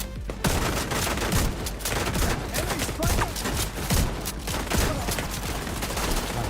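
Sustained gunfire in the video game The Division 2, dense overlapping shots from several weapons forming a loud, continuous barrage with little pause.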